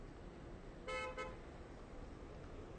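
A car horn honks in a short burst amid backed-up Friday night traffic near a crowded rail crossing at Westhampton, the tone standing out clearly over steady road noise.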